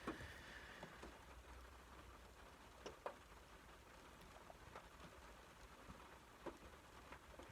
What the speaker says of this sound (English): I don't know if you can hear that rain in the background